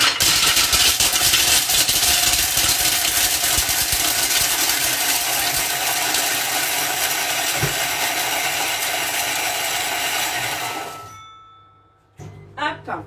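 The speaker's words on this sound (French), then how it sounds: "je vais le mixer. 10 secondes vitesse 7." A food processor at speed 7 blends baking chocolate in one continuous loud, gritty roar for about ten seconds, then stops abruptly, leaving a few light knocks.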